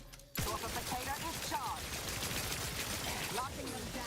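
Rapid, crackling gunfire from The Outer Worlds 2 video game: dense bursts of shots start abruptly and keep going, with a voice talking over them.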